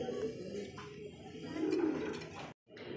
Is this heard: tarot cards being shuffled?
no